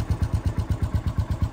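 A Bullet 500cc motorcycle engine idles nearby with a steady, evenly spaced low thump-thump beat, loud and alone with no talking.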